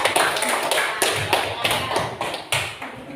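Schoolchildren in an Indonesian classroom clap together in a steady, patterned rhythm of sharp claps about twice a second, close and fairly loud.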